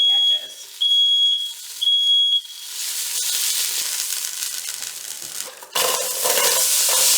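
Sausages browning in a pot with onion, apple and thyme, a steady sizzle rising after a few high electronic beeps at the start, loud and close, with a brief scrape or stir near the end.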